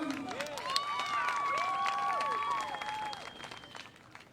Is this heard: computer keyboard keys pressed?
no